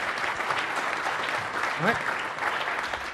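An audience at a Microsoft Ignite tech conference session applauds, a soft steady wash of clapping under a presenter's voice, fairly distant and moderate in level.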